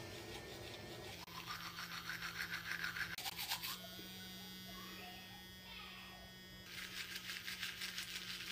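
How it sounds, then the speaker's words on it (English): A new electric toothbrush buzzes in several bursts, switching on and off with a steady high whine, faint and close, with a brief pause of quieter hum between runs. "The roomies gave Gerblin a new toothbrush"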